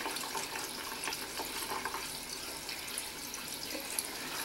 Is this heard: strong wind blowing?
no